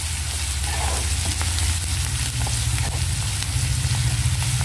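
Onions sauté in an oiled pan, a close, steady frying hiss over a low rumbling hum that holds evenly from start to finish, with no voices.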